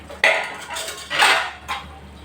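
A spoon scrapes and stirs through Kathiyawadi varadiyu vegetable curry in a pot, with tomato puree just added, giving three loud, close, wet scraping strokes in a quick uneven rhythm and no voice over them.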